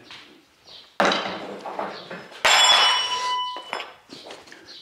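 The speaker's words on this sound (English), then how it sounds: "Let me get a spanner on there." A spanner works a subframe bush bolt on a Golf mk2 GTI 16V, producing a few close metallic clanks and clinks with ringing tones, separated by short pauses.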